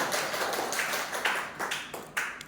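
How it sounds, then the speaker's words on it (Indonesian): Classroom clapping at a junior high school, a soft patter of many hands with several sharper rhythmic claps standing out, fairly quiet and brief. "Oke, luar biasa. Tepuk tangan."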